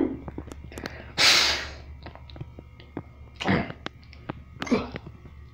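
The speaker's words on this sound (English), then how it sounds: "I'm gonna blow my nose." Several forceful nasal blasts of nose blowing, close by, separated by quiet pauses and small clicks.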